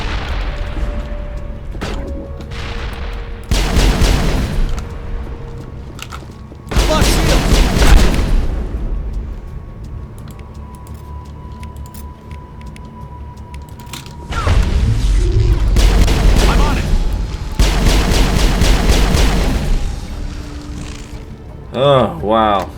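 Grenade explosions and gunfire in the video game Mass Effect, with several loud bursts and booming blasts separated by quieter stretches of a low mechanical hum.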